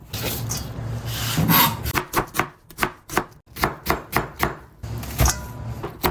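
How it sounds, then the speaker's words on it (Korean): Vegetables being finely julienned with a knife on a cutting board, a run of quick, crisp, evenly spaced chops up close with a brief scraping sound before them, no talk. "최대한 곱게 채를 썰어주시길 바랄게요"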